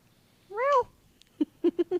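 A person mimics a cat, giving one drawn-out, rising and falling meow followed by four short, clipped mews in quick succession, close and clear against quiet.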